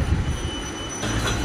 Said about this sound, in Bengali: কালীনগরের যে ব্রিজ রয়েছে সেই ব্রিজ পার করছি ট্রেনের মধ্যে, দ্রুত গতিতে ট্রেন চলছে।